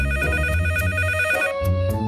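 A telephone rings in a cartoon night scene, a bright repeating electronic trill with steady tones, close and clear, then a pause before the ring resumes.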